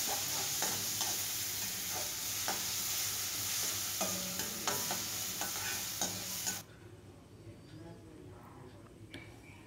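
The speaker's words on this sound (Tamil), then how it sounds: "இது கூட வெங்காயம் பொடிசாக நறுக்கி அதையும் சேர்த்துக்கிறேன்" Onion, chilli and curry leaves sauté in hot oil with a steady close sizzle and frequent spoon scrapes against the pan, the frying noise cutting out abruptly partway through.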